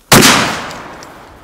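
A single loud, close blast from a pump shotgun, followed by a long decaying echo and no talking.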